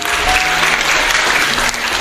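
Dense, steady applause from a church congregation fills the space at a strong, even level, sustained without a break and easing slightly near the end.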